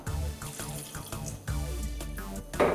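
Tap water runs steadily into a pressure cooker holding big beans and salt, a continuous close splashing stream with a brighter gush near the end.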